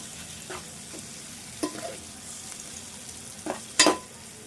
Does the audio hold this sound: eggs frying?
yes